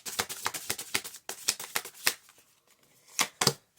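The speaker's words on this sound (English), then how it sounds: "They're brand new, so it's a bit sticky. A bit hard to shuffle" Brand new, slightly sticky tarot cards being shuffled by hand, a series of close, crisp riffling bursts in quick rhythm, then a pause and two more short shuffles, with no talking.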